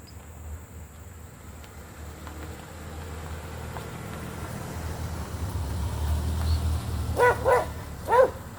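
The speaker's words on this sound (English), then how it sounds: "you hear my dog barking" A dog gives three sharp barks near the end, moderately close, over a low background rumble.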